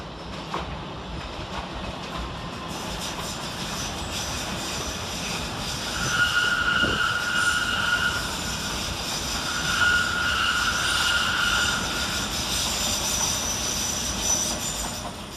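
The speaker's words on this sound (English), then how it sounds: "Another S8 Tube Stock sees the arrival of 21555 and 21556, working a Circle Line service from Hammersmith to Edgware Road." An S8 Tube Stock train on a Circle Line service pulls into London Paddington station with a sustained rumble of wheels and motors, a faint high squeal of wheels on rail drifting in and out as it slows.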